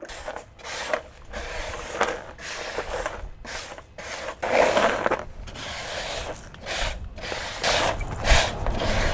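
Stuck debris is scraped and broken up by hand or with a screwdriver or spatula inside an old gutter, giving repeated rough rubbing and scratching strokes in irregular bursts, close and fairly loud, with no talk.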